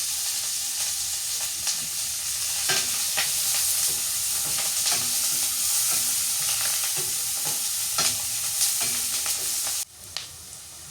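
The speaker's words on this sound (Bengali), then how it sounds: "পেঁয়াজ আর মরিচটা ভালো করে ভেজে নিলাম" Onion and chili frying in hot oil while being stirred, a steady close sizzle broken by regular scraping strokes of the spoon. It stops abruptly near the end and leaves a quieter hiss.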